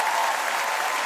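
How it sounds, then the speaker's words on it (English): A convention audience claps for Ben Browder, a brief, even burst of many hands applauding together, moderately loud with no speech on top. "Give a round of applause to Ben Browder."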